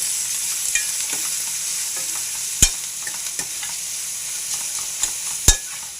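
Cabbage curry stirred in a pan over a soft continuous sizzle, with a few sharp utensil scrapes and taps against the pan, close and without speech.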